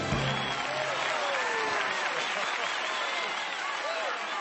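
A cartoon theater audience applauds a stage musical performance of The King and I: continuous applause blended with whooping, cheering voices, steady and full throughout.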